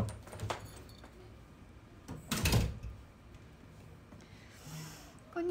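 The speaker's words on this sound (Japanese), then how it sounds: "ちょっとドア閉めてきます" A door being closed indoors, a few soft handling knocks and rustles leading to one firm thud midway, with quiet room noise around it.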